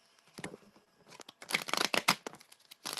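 A deck of cards shuffled for a card reading: quiet isolated flicks at first, then a dense burst of riffling and snapping cards close by, with no speech.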